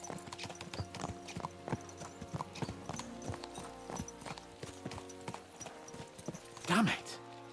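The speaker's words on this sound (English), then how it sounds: "Let's really spur these horses on, eh?" Horse hooves clip-clop steadily in the medieval video game Kingdom Come: Deliverance II, a quick regular trot under quiet ambience, closing with a brief neigh.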